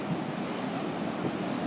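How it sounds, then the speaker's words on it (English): Ocean surf rolls in at Dog Beach in Ocean Beach, a steady broadband wash of breaking waves with wind buffeting the microphone, continuous and fairly loud, with no voices. "Look at the ocean."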